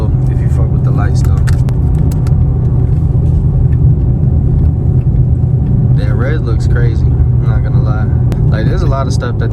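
Dodge Charger car on the move, a steady low road and engine rumble throughout, with someone talking over it in bursts.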